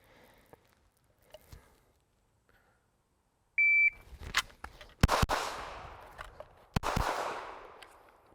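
Sharp pistol shots from a Shadow Systems CR920XL during a defensive drill, about four fired in quick pairs after a brief electronic beep. Each crack is followed by an echoing tail.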